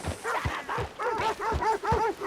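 Several dogs in Red Dead Redemption 2 yip and whimper in a rhythmic run of short, whiny barks, close and insistent, about one every half second.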